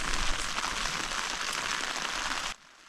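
Heavy rain pours steadily on a tent at a mountain base camp in Pakistan below Thui II, a dense, even hiss lasting a few seconds before it cuts off abruptly, with no voices.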